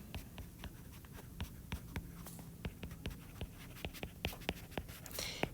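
A quadratic function in vertex form being written out by hand, a run of small, close taps and scratches at an uneven rhythm, quiet and free of speech, ending in a brief rustle.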